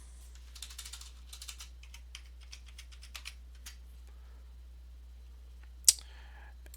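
Keystrokes on a computer keyboard as a password is entered, a quick run of light, close clicks spread over several seconds, then a pause and one sharper tap near the end, with no talking.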